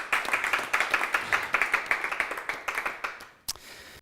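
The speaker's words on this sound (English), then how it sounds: "let's do a round of applause" Rhythmic applause at an online closing ceremony for a mobility race, a small group clapping in quick regular beats that fade out, followed by a single sharp click.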